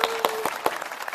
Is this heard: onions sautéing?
no